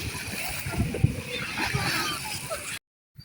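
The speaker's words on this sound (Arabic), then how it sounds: "شوفوا كيفاش عمر بالمواج ورجع البحر بحال اللي موسخ" Sea waves washing and splashing along a beach as the water churns up murky, a steady rushing wash with splashy bursts that cuts off near the end.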